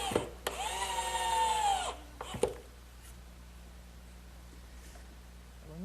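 A power drill drives an all-weather screw into an Adirondack chair armrest, a close whirring whine that rises in pitch for about two seconds and then stops, followed by a brief second burst and then a quiet room.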